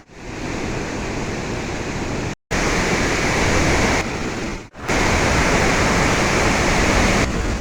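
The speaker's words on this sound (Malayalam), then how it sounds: "ഈ വെള്ളം വീഴുന്നതിൻ്റെ കാറ്റ് കാരണേ ഈ തണുത്ത വെള്ളം ഈർപ്പം ഇങ്ങനെ മുഖത്ത് ഇങ്ങനെ അടിച്ച് കയറുകയാണ്" Mankayam waterfall pours with a steady, loud rush of water close by, a dense unbroken roar filling the scene, briefly cut twice before resuming at full strength.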